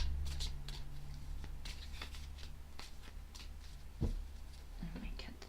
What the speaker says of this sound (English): Let me shuffle a little bit more.